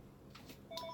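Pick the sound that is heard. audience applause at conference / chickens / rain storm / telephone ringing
telephone ringing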